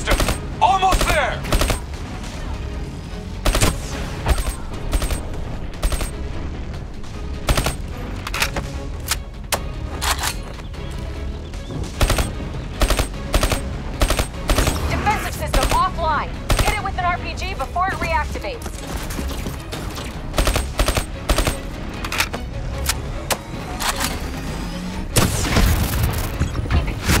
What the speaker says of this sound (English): Use targeted weapon fire to temporarily disable it, then hit it with an RPG